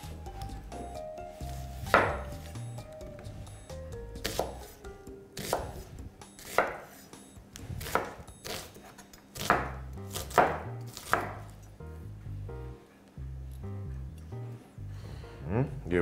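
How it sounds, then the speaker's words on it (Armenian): Knife chopping onion on a cutting board, close and crisp, with a series of irregular sharp chops spread across the clip, some in quick pairs, separated by quieter handling sounds. "կարևոր չի, թե ինչ չափի ենք այն կտրելու, շատ մեծ պետք չի, որ արագ եփվի, բայց շատ մանր էլ պետք չի կտրատել, այստեղ ես ունեի սոխ"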